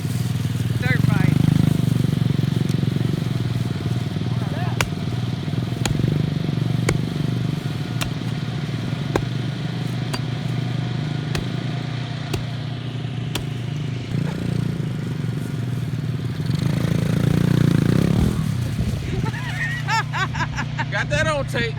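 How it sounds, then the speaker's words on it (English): A mini dirt bike engine drones steadily throughout while ridden by a first-time rider, loud and close with a rising rev near the end, and people's voices and shouts mixed in. "first time ever riding a dirt bike"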